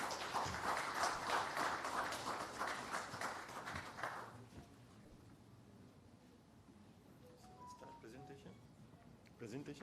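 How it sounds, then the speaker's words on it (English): Conference audience applauding at a redevelopment event hall, a steady wash of many hands clapping for about four seconds before fading out into quiet room tone and a few scattered taps. "I request everyone to please give him a huge round of applause."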